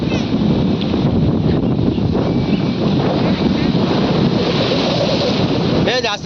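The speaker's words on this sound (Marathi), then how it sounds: "अरे अरे लाट बघ कसली येते भयानक" Big sea waves crash and surge continuously at Revdanda beach near a bridge, loud and close with heavy wind buffeting the microphone throughout, and a brief voice near the end.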